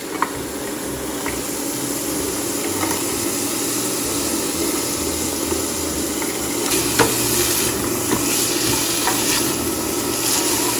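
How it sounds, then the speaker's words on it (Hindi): Carrots go into a pot for broccoli cheddar soup, bringing a steady close sizzle and frying hiss with occasional scraping stirs and light clicks, continuous and fairly loud with no talking. "सो अब जो है हम कैरेट्स डाल रहे हैं।"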